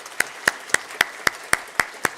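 A church congregation at a Sunday worship service claps together in a steady unison beat, eight sharp, evenly spaced claps about a quarter-second apart over a quiet room tone.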